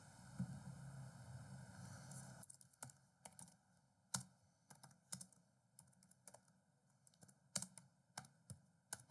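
Typing on a computer keyboard during a DevOps cloud automation demo, a faint hum for the first two seconds and then scattered, irregular close key clicks in short bursts, no talking.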